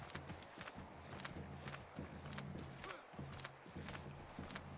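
Horse hooves in a video game, steady clip-clop footfalls in a repeating walking rhythm, close and continuous throughout at low volume.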